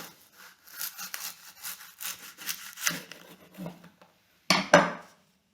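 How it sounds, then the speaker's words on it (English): A knife saws back and forth through baked choux pastry eclairs, slicing them in the middle with a crisp, rasping rhythm of short strokes, then a pause and a louder scrape near the end. "Now the eclairs, we want to slice them"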